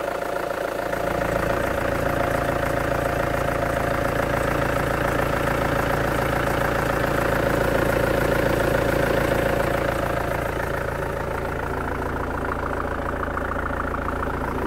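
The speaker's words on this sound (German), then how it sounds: "Motor läuft ganz normale" A Mercedes-Benz Vito van engine idles steadily and close, a constant low rumble with an even mechanical hum and no voices.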